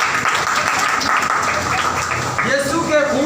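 Congregation at a church service applauding in worship, a dense steady wash of clapping that carries through the clip with a voice speaking over it.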